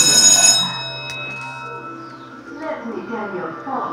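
An old arcade game table rings its bell after a win, a bright ringing burst at the start that fades quickly, followed by quieter mechanical clatter and faint room noise.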